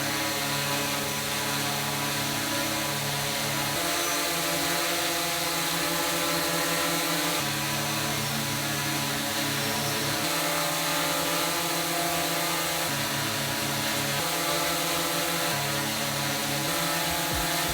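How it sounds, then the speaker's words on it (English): DJI Mavic 4 Pro and Mavic 3 Pro drone propellers spinning, a loud steady whirring buzz with layered tonal hum that shifts in pitch at several points, close and continuous with no talk. "the tone of the propellers is a bit lower. So it doesn't have as much of that whiny high-pitched sound that you get from drones."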